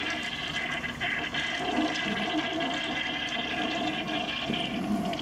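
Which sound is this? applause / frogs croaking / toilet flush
toilet flush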